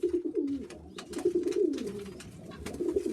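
Sheffield Tippler pigeons coo in a steady run of low, throaty, rolling calls close by, overlapping one another for a few seconds with soft rustling and clicks behind, no voices.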